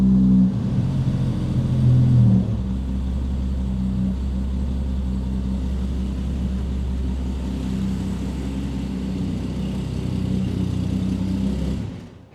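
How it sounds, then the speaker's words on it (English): A Volvo 164 pulled from a Finnish barn idles steadily, a deep, even engine rumble heard up close for about twelve seconds with a slight rev near the start, alone without any talking, then cuts off at the end. "As you saw, the car is running"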